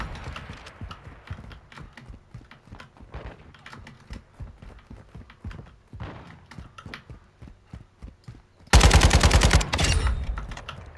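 Video game gun game mode gunfire: a string of sharp single shots and taps in irregular rhythm, then a loud, dense burst of rapid automatic fire near the end, close and alone without talk.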